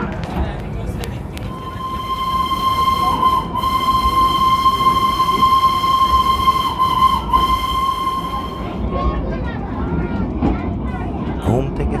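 Darjeeling Himalayan Railway toy train running near Ghum and Batasia Loop, a long steady steam-style whistle held for several seconds over rumbling wheels and hiss, fairly close, with people talking.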